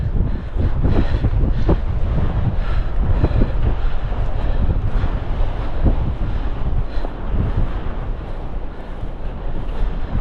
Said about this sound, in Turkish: Evet rüzgar da şiddetlendi.